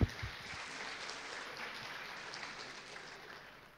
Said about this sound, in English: So I'd like to give a big round of applause for all the other team members.